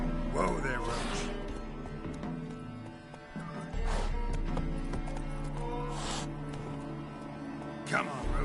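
Roach, the horse in The Witcher 3: Wild Hunt, trotting with rhythmic hoof clip-clops over a low steady rumble, mid-distance, with a brief snort or whinny near the end.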